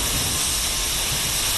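Steam locomotive in the Train Simulator Classic game giving off a steady, broad hiss of escaping steam, continuous and fairly loud throughout with a low rumble beneath.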